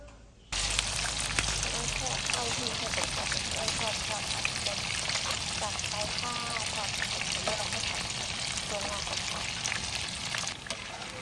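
Tofu fries in hot oil in a pan, giving a steady, close sizzle with crackling pops that begins abruptly and holds throughout.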